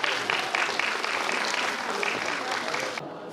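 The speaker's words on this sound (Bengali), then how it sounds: "আরেকবার হাততালি দিন ওদের জন্য।" An audience at a cultural programme claps steadily for young performers, a dense, even round of applause heard at moderate distance that continues for about three seconds before thinning out.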